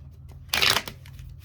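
Tarot cards get one quick, close riffle shuffle, a brief crisp burst of fluttering card edges lasting under half a second amid otherwise quiet surroundings.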